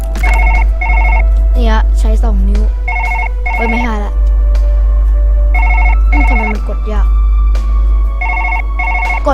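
A telephone in the surgery game Surgeon Simulator rings in repeated double bursts, loud and steady across the whole stretch, with a voice talking over it throughout.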